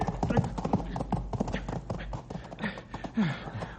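A horse's hooves clop in an irregular string of sharp knocks near a canyon edge, close and fairly loud, with a short rough vocal sound mixed in.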